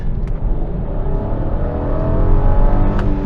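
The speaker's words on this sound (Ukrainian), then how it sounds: "А насправді тут вихлоп, якщо от ми починаємо там десь прискорюватись" Exhaust of a Volkswagen Passat 3.6 GT under acceleration, a loud steady drone that builds in pitch over a few seconds, heard from inside the moving car with no talk.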